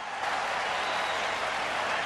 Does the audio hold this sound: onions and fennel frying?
no